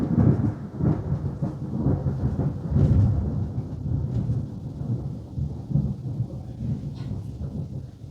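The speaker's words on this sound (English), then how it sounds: "there was just a thunderstorm" A thunderstorm rumbles through in deep, rolling waves that swell loudly around the first and third seconds, then settle into a steady low growl. Light rustling sits on top, and no one speaks.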